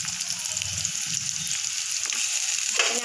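Ginger and garlic fry in a pan with a steady, soft sizzle, close and alone, with a faint stir or clink near the end.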